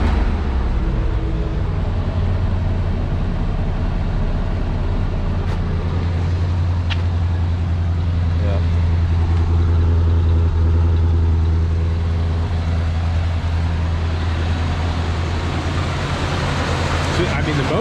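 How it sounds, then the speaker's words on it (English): Engine of an old vehicle idling steadily after sitting through a heat cycle, a low, even rumble that stays smooth and constant throughout, with faint clicks and some background noise on top. "the motor runs. Look at it. Like, I think it's running nice and quiet and smooth"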